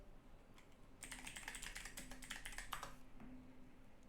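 Quick clattering keystrokes on a computer keyboard, a short burst of rapid typing in the middle of a quiet room, close and fairly soft.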